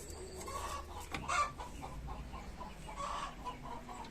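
Chickens clucking in a backyard setting, with short irregular clucks and squawks, fairly faint against a quiet, slightly noisy background.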